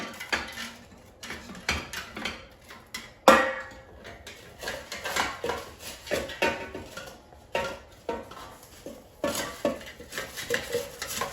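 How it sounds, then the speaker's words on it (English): A spatula scrapes and clatters against an air fryer basket while separating air-fried gnocchi stuck together with melted Parmesan, making irregular close metallic knocks and scrapes. "I'm just using the spatula to separate them because the Parmesan cheese, when it melts, it kind of makes some of them stick."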